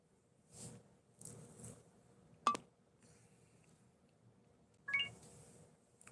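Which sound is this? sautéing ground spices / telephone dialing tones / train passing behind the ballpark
telephone dialing tones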